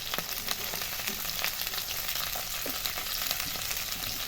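Cauliflower pieces fry in hot oil in a pan, a steady dense sizzle with faint crackles running unbroken and close.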